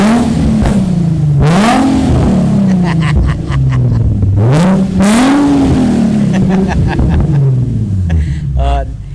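A drift car's engine revs hard again and again, each burst climbing in pitch and falling back, loud and close, with a voice briefly heard in the mix.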